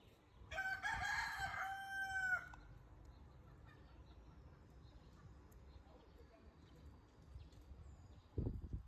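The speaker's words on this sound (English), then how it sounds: "These roosters, I don't know if you guys can hear them, but these roosters have been making noise." Roosters crow loudly and close at the start, a long drawn-out call followed by quieter farmyard ambience, with a brief sharp sound near the end; the scene is in Cameroon.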